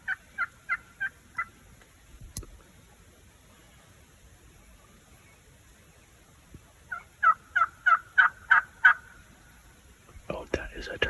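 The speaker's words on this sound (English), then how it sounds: "Oh, that is a turkey. That's a gobbler." Wild turkey gobbling outdoors: a run of four quick rattling gobbles, a quiet pause, then a longer series of six or seven louder gobbles, with some rustling or noise at the end.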